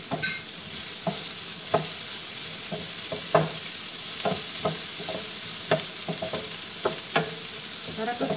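Chopped onion and a whole green capsicum frying in a pan, a steady close sizzle with soft regular scrapes and stirring taps running throughout, no talking.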